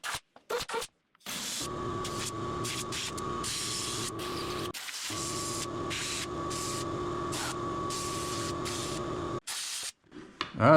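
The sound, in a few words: compressed air blowing on fiberglass cowl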